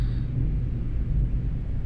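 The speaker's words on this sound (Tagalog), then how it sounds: "Galit na galit yung kulog guys." Deep rumbling thunder rolls on steadily through a heavy downpour over Makati, a continuous low roar with no speech.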